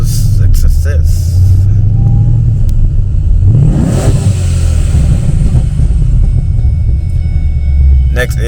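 A 2012 car fitted with a Tial 50mm blow-off valve roars loudly in a rumbling idle, then a sharp rev rises and falls midway before settling back to a heavy rumble.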